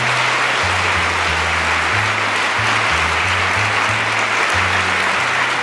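An audience breaks into sustained applause, dense and even throughout, loud and close, with no speech over it.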